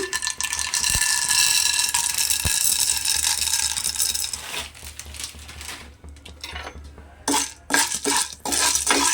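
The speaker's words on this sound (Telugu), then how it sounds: "ఇప్పుడు దీంట్లోకి పాప్కార్న్ వేసుకుందాం" Popcorn kernels rattle and clatter against the metal of a cooker as they are tipped in and stirred, a busy scraping, tinkling racket that thins out midway and returns in short bursts toward the end.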